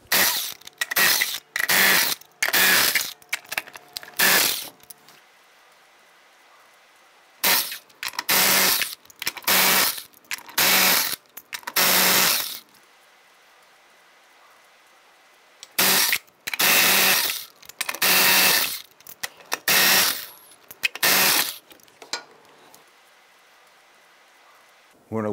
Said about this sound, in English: We're going to loosen and remove our bolt using a 15 millimeter wrench on the bolt side and an 18 millimeter socket on the other.